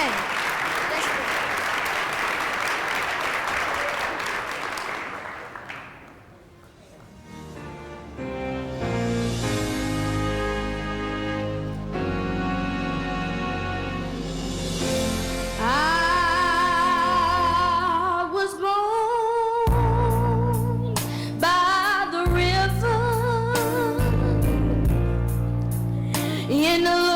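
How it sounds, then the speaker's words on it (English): A church congregation claps hands for the Lord at a Martin Luther King celebration event, with about five seconds of dense, loud, continuous applause before music takes over. "let's just give the Lord a hand clap on today"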